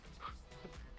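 A brief dog yelp or whimper in the video game Ark, faint and short, set against soft background noise.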